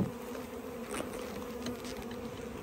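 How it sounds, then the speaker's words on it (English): Honeybees from a package drone in a steady, close buzz while being installed from a wooden shipping box into a new hive, a constant hum with no talking. "Giving bees a new home because they're in a wooden box."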